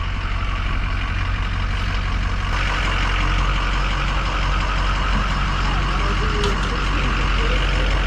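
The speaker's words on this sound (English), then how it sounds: "I'm just doing circles on the drive-thru with my loud diesel truck" A loud diesel truck engine idles at a drive-thru with a deep continuous rumble, brief faint beeps and clatter rising over it.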